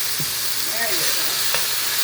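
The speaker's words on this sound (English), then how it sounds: "We need it to put a little crisp. We need it to sizzle." Steady, dense sizzling of sirloin tips frying in a hot pan, a continuous crackling hiss with a few soft clinks of utensils, no talking.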